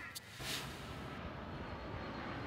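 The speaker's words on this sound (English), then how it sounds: "The roar of planes overhead cutting through the smoky sky." Planes roar overhead through a smoky sky above a wildfire-threatened area near Lytton, British Columbia, a steady distant aircraft engine rumble filling the whole stretch.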